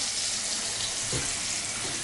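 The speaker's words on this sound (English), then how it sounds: "Sink, good water pressure." Water runs steadily from a bathroom sink faucet in a house with tile floors, a broad continuous hiss with good pressure, close and fairly loud, with a brief low bump partway through and no talking.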